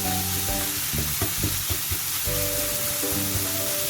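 Chicken fries over high heat while being broken into mince, a dense continuous sizzle close up with a low steady hum and rhythmic stirring knocks beneath it.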